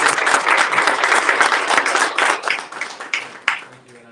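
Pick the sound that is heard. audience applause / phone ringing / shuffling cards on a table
audience applause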